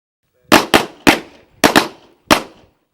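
Six loud gunshots crack close by at a police academy firing range, coming in irregular pairs and singles, each with a brief echoing tail.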